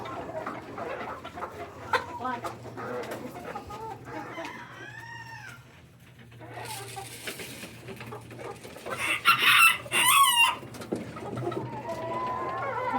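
A flock of chickens crowds in at feeding time, with close clucking, squawks and a rooster crowing over a low hum, and someone speaking now and then.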